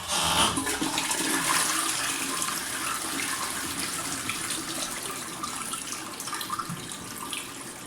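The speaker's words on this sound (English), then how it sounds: "One last flush." A toilet flushes close by, a loud rushing gush that gradually settles into steady trickling and refilling water.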